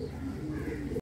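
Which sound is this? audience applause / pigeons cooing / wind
pigeons cooing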